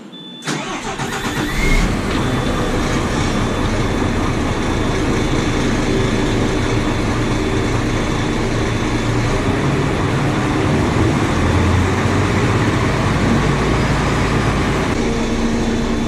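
An old, tired truck engine with over a million kilometres on it cranks and catches, then runs at a steady, loud idle nearby for the rest of the clip, with no talking.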